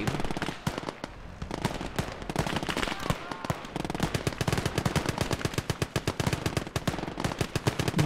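Rapid bursts of MG42 machine-gun fire in the Gates of Hell war game, a loud, dense, steady rattle of shots continuing almost without pause alongside other battle noise.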